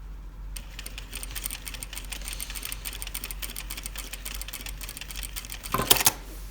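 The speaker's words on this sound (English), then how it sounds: "We hold on to it, we can stitch across that triangle there." A sewing machine stitches across a fabric triangle while a jetted pocket with a flap is made, giving a fast, even, close clatter that runs steadily and ends with a brief louder rattle.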